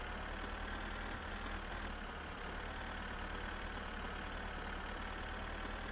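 Tractor engine in the My Summer Car game drones steadily at low revs, a constant mid-low hum that stays even and unbroken throughout.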